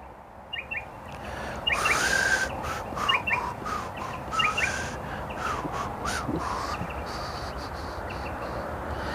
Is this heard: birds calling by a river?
yes